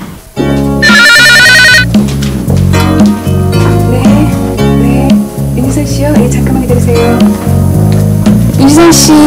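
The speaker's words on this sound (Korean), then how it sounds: "윤희선씨 전화 받으세요" A telephone rings in a 1993 Korean KBS television drama, giving a brief burst of rapid trilling early on. Loud background music and other sound carry on throughout.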